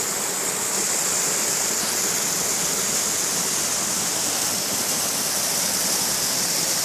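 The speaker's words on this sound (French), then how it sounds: "les eaux qui coulent ici" Treated water from the Bois Noirs mining site pours out steadily into the Bèbre river, a loud, constant rushing roar with no pauses.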